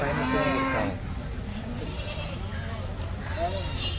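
A goat bleats loudly nearby, then again a few seconds later, over a steady low background hum.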